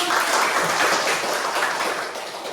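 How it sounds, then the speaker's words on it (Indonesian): Dense applause from a classroom group during a teacher-training performance session, loud and continuous across the whole moment with no speech over it. "tepuk tangan dulu"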